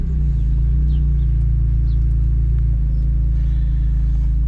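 A 2002 BMW E46 M3 with 53,000 miles on a drive: steady, loud low engine drone and road rumble from inside the car, continuous throughout with no clear revving.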